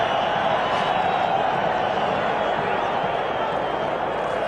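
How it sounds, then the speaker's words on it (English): Stadium crowd at Ellis Park during a 2004 South Africa versus New Zealand rugby test, a steady dense roar of many voices filling the whole clip without breaks. "listen to the crowd"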